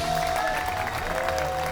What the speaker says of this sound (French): Qu'on peut applaudir Gaëtan Petit